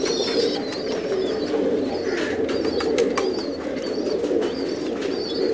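Pigeons coo in a loft of racing birds, a continuous low murmur from many birds, with occasional higher chirps above it and no talking.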